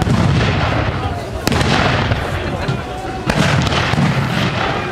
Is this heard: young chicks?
no